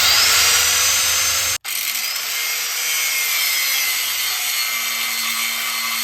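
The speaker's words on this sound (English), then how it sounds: "come down through the top with an angle grinder and get those studs out" An angle grinder cuts through the exhaust manifold flange studs on a Lexus LS430, a loud steady high-pitched grinding that stops briefly before continuing alone.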